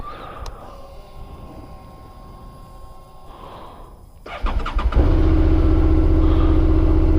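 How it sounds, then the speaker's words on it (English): A 2019 Honda SB650 motorcycle engine cold-starting after sitting unused: quiet background at first, then a burst of cranking that catches into a loud, steady idle lasting several seconds. "Here is the cold start after a while of not riding Lazarus."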